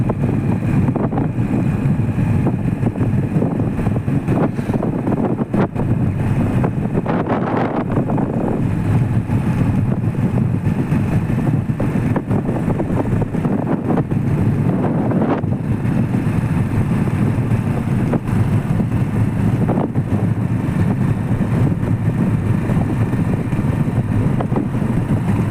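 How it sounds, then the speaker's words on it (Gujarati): A motorcycle runs steadily while being ridden on a road trip, its engine drone blended with heavy, constant wind buffeting across the microphone throughout, with no talking. "બાઇક ચાલુ છે."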